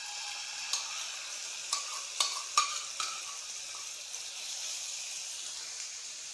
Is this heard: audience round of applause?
no